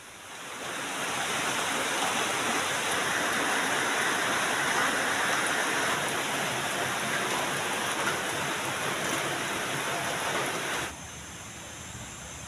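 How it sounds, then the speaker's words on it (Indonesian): Heavy rain pours on a rural farm in Indonesia, a loud, dense and even hiss that swells in after a second and holds steady, easing slightly near the end. "Hujan deras lagi teman-teman. Tadi pagi saya berpikir bahwa cuacanya agak baik, ternyata hujan lagi. Dan hujannya cukup deras ya."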